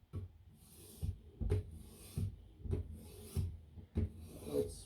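A knife edge being sharpened on an Edge Pro Apex 2 sharpener with the lightest pressure, giving close, regular rasping strokes, about two per second, with short pauses between them.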